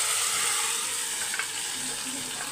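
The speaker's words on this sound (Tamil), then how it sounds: "நல்லா பூண்டு வந்து பொரிஞ்சு வரட்டும்" Garlic fries in hot oil in a pan, giving a steady, close sizzling hiss with faint crackles throughout.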